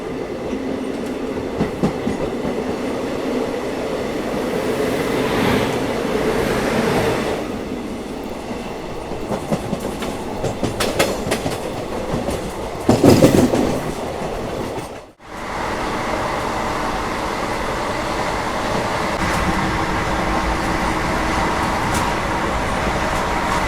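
The Rewa–Jabalpur Intercity Express rolls along the rails with a steady rumble and rhythmic clickety-clack of its wagons, swelling in louder bursts, briefly cutting out, then resuming as a constant drone.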